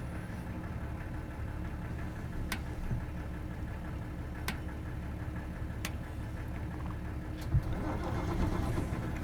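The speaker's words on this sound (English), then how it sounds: "It's fun starting up the engines." Engines on the vessel HMS Marulken starting up and running, a steady low rumble throughout with a few sharp clicks and knocks, moderately near and without talk over it.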